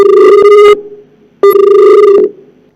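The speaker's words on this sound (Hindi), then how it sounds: "फोन डिस्कनेक्ट हो गया" Two loud electronic telephone tones sound in succession, each a harsh buzzy beep with a short gap between, then silence.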